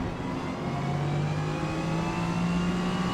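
The engine of a Jaguar XJR-5 race car at Daytona roars in a steady, loud drone, its pitch rising slightly as it revs, with no voices.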